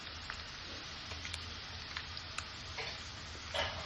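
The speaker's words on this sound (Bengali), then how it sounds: "এবার দিয়ে দিচ্ছি আদা রসুনের পেস্ট" Ginger garlic paste frying in a pan with browning onions, a faint even sizzle with light stirring scrapes and a slightly louder burst near the end, no speech.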